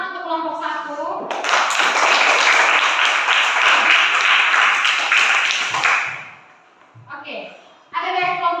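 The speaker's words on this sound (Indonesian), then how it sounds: "Tepuk tangan untuk kelompok 1." Schoolchildren in an elementary classroom clap together for a presenting group, a dense burst of close, lively applause lasting several seconds and then fading, with a voice speaking briefly before and after.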